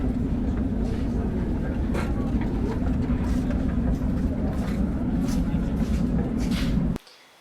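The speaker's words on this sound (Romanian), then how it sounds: "Și am mers cu metrou până în Piața Tahrir" Riding a Cairo metro train: a loud, constant rumble and rattle heard from inside the carriage, with background chatter, until it cuts off abruptly near the end.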